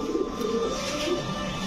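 A white Lakha pigeon cooing softly at a pigeon market stall, low murmuring coos repeating over a steady background hum, with no talk.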